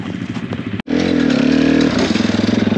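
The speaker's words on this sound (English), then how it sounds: "Start your engines." A trail motorbike engine starts up near the microphone with a sputtering burst, then roars into a loud, steady idle and settles into a rapid, pulsing chug.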